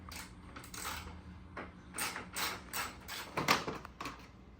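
Bolts being removed from the front fender of a Yamaha Raptor 700 ATV, a series of faint metallic clicks, ratcheting and rattling handling noises in irregular bursts, close but quiet.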